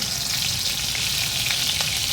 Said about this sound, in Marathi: तेल तापले की 1 हिरवी मिरची